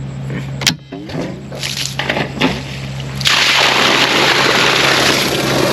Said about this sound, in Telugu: ఇప్పుడైతే మనం అయితే మోటార్ వేద్దాం